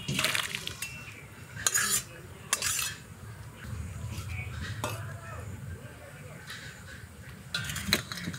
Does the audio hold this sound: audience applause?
no